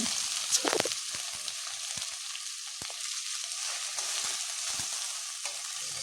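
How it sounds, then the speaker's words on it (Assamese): Steady sizzle of okra frying in a pan over a low flame, a continuous crackling hiss with a few sharper pops and stirring clatters early on, no voices. "তাৰপিছত মই ভেন্দিখিনি 2-3 ছেকেণ্ডৰ কাৰণে ভাজি কৰিম"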